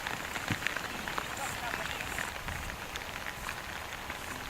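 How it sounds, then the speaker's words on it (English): Steady rain falls on a hillside trail near St Jean-Pied-de-Port, a dense continuous hiss of drops with scattered close patters and no pauses. "It's starting to rain now, which is a bit unfortunate."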